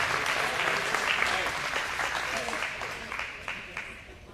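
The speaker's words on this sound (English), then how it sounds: "Round of applause for Jim Rasick, please." Sustained applause from a crowd, steady clapping that gradually thins out toward the end, with faint voices mixed in.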